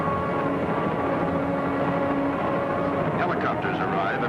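Helicopters arriving over a burning building, a continuous heavy rotor and engine drone that holds steady throughout, with a voice speaking over it and a brief burst of higher sound near the end.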